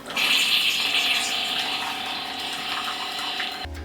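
A Keurig coffee maker brewing a cup of Folgers coffee gives a loud, steady pumping gurgle of water with mechanical whirring that stops abruptly near the end.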